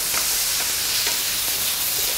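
Garlic sizzles steadily in a hot pan while being stirred, a loud, close, hissing crackle with faint scraping strokes at intervals and no voices.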